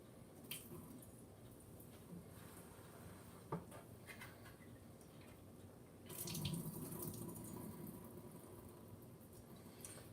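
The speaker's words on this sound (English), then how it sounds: "So I'm gonna pour some more of this juice off here first." Juice is poured off while cooking a blueberry batter, making a steady, soft liquid stream with faint splashing that swells partway through.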